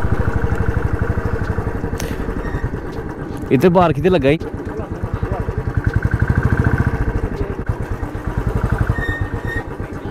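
A motorcycle being readied for a well-of-death stunt show idles close by, its engine putting out a steady, loud, rapid chugging pulse throughout while people talk over it.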